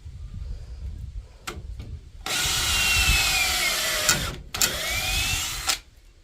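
Close, loud whirring of a power drill driving at an angle into timber on an old deck under renovation, with a few short taps, then a long sustained run, a brief break and a second run.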